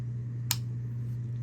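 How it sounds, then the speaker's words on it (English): One sharp, crisp click as a plastic binocular bridge snaps into place on a night-vision mount, heard alone over a low steady hum. "When you snap a Bino-Bridge into an NVG, it should sound like this."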